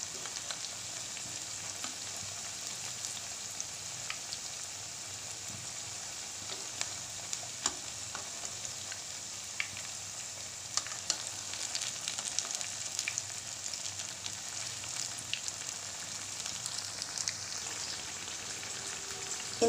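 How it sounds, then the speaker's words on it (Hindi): Potato kababs fry gently in a pan over low heat, giving a soft, steady sizzle dotted with scattered small crackles and pops. It runs quietly and continuously, with no voices. "इनको जितना हम हल्की आंच पे पकाएंगे उतने ज़्यादा ये क्रिस्पी बनेंगे, तो इसलिए इनको हल्की आंच पे पकाएंगे।"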